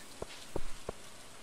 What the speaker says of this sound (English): It's gonna rain all day.